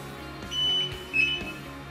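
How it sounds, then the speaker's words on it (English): Zebra RFD8500 handheld RFID reader giving electronic beeps as its trigger is pulled to connect, two short tones over a quiet background. "you'll hear the beep, and then it is connected."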